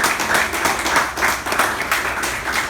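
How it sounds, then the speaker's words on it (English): Round of applause from a Toastmasters meeting audience at an installation ceremony, welcoming a speaker, with close, uneven bursts of clapping that rise and dip in waves. "With a huge round of applause, please help me welcome Toastmasters Sindhushree."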